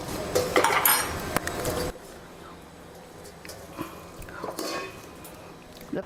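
A lid set on a pot before preheating for a ghee-residue cake cooked on a gas stove, with metallic clatter and scraping early on, then quieter faint clinks and handling sounds.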